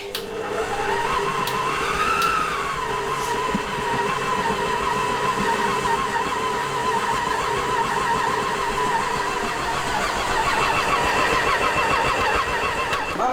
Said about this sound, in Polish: z tym robotem planetarnym idzie w chwilę